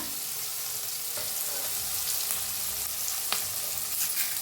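Chopped onion and curry leaves fry in hot oil with a steady, dense sizzle, broken by a few scraping stirs of a spoon in the pan; close and continuous, no talking.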